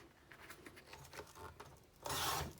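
Scrap paper being trimmed to ten inches for a mixed-media mini album page makes quiet, close scraping and rubbing strokes, followed by one louder, brief swiping cut at the end.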